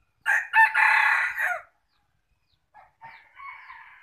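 A rooster crows close by in one long multi-part call, then after a short silence a second, fainter and more distant crow begins, with no talking over it.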